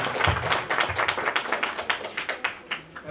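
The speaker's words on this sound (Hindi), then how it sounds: "हाँ जी जोर से ताली बजाए परमेश्वर के लिए" A church congregation claps loudly and rhythmically in praise, a quick run of sharp, evenly spaced claps from many hands that thins slightly near the end.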